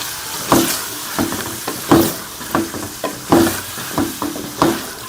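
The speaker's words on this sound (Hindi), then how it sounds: "इसमें हम ये कलेजी शामिल कर लेंगे और इसको भी मसाले के साथ अच्छी तरह से भून लेंगे" Chicken liver being fried with masala in a pan, heard as a series of sharp scraping stirs roughly every half second over a soft background sizzle, loud and close.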